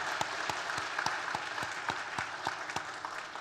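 A church congregation applauds: a moderate, steady patter of many hands, with a few sharper individual claps standing out at an irregular rhythm, heard alone without speech.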